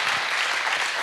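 A burst of thick, continuous applause from a plenary audience at a European big data forum in Valencia, loud and even across the whole moment with no voices standing out.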